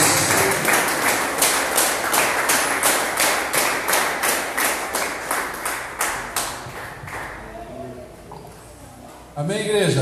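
A congregation claps steadily in time during a Portuguese-language worship service at IEQ Central Parque church, with about twenty crisp, evenly spaced claps. The clapping fades near the end, and a voice speaks briefly afterward.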